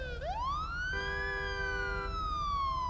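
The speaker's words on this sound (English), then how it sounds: "I can't handle the fast motion police siren" A police siren in a video game wails in a fast sweeping rise and fall, loud and steady over a low engine drone, with nobody speaking.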